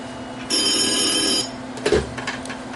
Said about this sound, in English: Well, where's the phone?